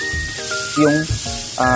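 Steady hissing sizzle of onion and ginger frying in hot oil, close and fairly loud, with a voice speaking over it.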